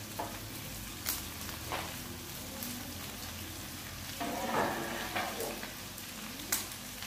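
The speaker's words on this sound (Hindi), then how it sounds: "सारी वेजिटेबल्स जो है इसमें ऐड कर लेते हैं और साथ ही ये कैप्सिकम जो है यानी कि शिमला मिर्च इसको भी साथ ही ऐड करेंगे" Cabbage, capsicum and other vegetables stir-frying in a pan, a steady close sizzle broken by several sharp scrapes and clatters of a spatula stirring, with no talking.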